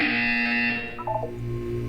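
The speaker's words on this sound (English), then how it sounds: "When you hear the buzzer, look up at the ceiling." Buzzer in the Portal 2 video game, a harsh, steady electronic drone held loud for about a second before breaking into brief wavering tones and fading into a lower hum.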